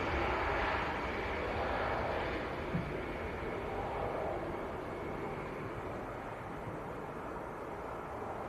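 An EasyJet Airbus A320 at Manchester Airport gives off a steady, broad jet-engine roar that stays fairly constant, fading slightly over the stretch, heard from a distance outdoors.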